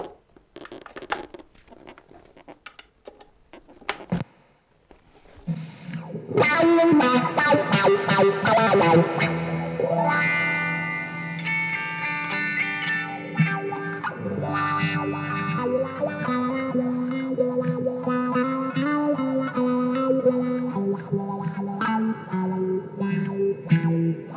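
Distorted electric guitar played through a wah wah pedal, with the filter sweeping as sustained chords and notes ring out loud and close, after a few seconds of scratchy noise at the start.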